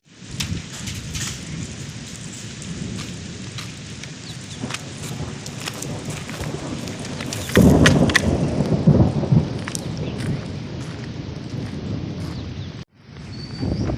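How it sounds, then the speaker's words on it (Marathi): Unseasonal March hailstorm in Konkan pounding tin roof sheets, a dense continuous rattling roar with a heavy thunder rumble swelling midway before cutting off abruptly near the end. "आता हे बघा गारा पडायला सुरुवात झाली आहे बघा"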